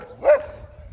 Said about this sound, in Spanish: qué escándalo de perros